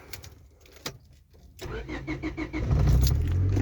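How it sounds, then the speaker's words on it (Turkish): A Honda Civic 1.6 car engine cranks and catches, then settles into a steady idle, with a few clicks and rustles beforehand. "Arabayı çalıştırdık."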